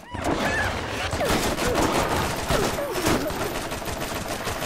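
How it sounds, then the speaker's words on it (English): Rapid gunfire fills a Borderlands firefight, with dense overlapping shots and bursts running continuously and loudly throughout, along with chirpy game effects in the mix. "I'm getting shot at by someone"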